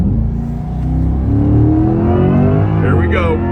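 A 2024 Corvette E-Ray on an autocross course accelerates, its engine note rising steadily and loudly close by. A voice talks over it.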